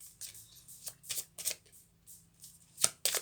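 Tarot cards are shuffled and drawn by hand, quiet crisp riffling and flicking bursts repeating in an uneven rhythm close up, with no talk.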